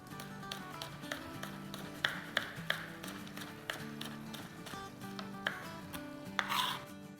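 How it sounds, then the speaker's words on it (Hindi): A knife chops a green chili on a cutting board in a string of crisp, evenly spaced taps, a few louder than the rest, over a soft background hum. "साथ ही 1 हरी मिर्च काट लेंगे।"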